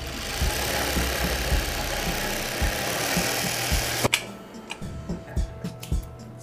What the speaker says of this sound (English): this thing, essentially the job it does is overlock the edge so that it doesn't unravel, but it does it in a decorative manner